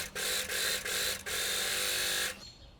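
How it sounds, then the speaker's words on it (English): An overlocker stitches the center back seams of a puff sleeve dress, running in four loud, fast mechanical bursts with brief pauses between them before stopping. "let's take the back parts and overlock them at the center back"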